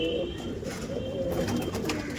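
Pigeons at a Punjab pigeon loft coo in low, rolling murmurs that run steadily through the whole moment, close by and fairly loud, with a faint rustle of wings and movement in the background.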